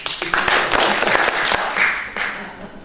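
A crowd breaks into broad, dense applause with steady clapping that rises and holds loudly for a few seconds, many hands close together and no voices standing out.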